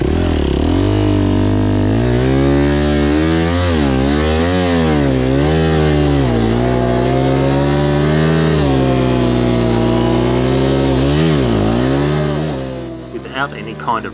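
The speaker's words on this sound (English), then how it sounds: "trying to get up on this clay embankment, I was definitely dreaming to think that the bike was going to get up there" A Suzuki RMZ250 motocross bike struggling up a steep clay embankment, its engine screaming loud and close with continuous revving that rises and falls in pitch, then cutting out near the end.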